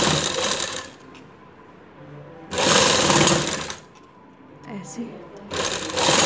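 A sewing machine stitches a kurti neckline in three loud, close bursts of rapid whirring, with quieter gaps and a few spoken words between them.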